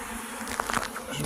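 Honeybees buzz around open beehives during a frame change at an apiary, making a dense, steady hum that fills the whole short moment, with a few individual bees passing close by.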